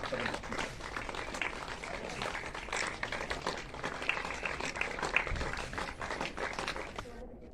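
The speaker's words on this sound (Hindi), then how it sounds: "आप लोग लगातार सभी स्वागत करते रहें। ताली।" Crowd applause at a Shivratri religious event in a flower garden, welcoming the chief guest, a local MLA; steady dense clapping mixed with voices and crowd chatter throughout.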